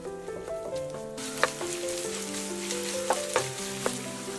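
Minced onion stir-fries in a wok after pork, ginger powder and white liquor, giving a constant close sizzle that brightens partway through, punctuated by several sharp spatula scrapes and clicks, with soft music beneath.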